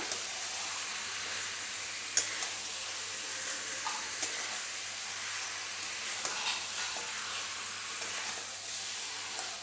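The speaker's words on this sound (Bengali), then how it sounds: "মশলার সাথে চিকেনটাও খুব ভালো করে কষে নেব" Chicken frying with spice paste in a pan, a steady bright sizzle and hiss throughout with occasional faint stirring knocks, close and even in level.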